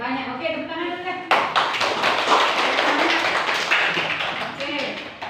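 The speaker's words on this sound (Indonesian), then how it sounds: "Oke, tepuk tangan dulu deh." Children clapping their hands together in a classroom, a sudden burst of dense, steady applause that starts after a spoken voice and continues loudly to the end.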